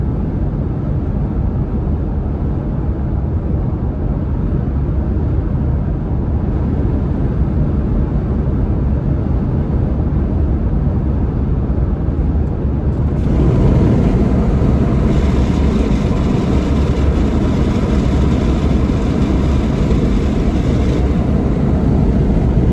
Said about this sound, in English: the wind noise is probably way overshadowing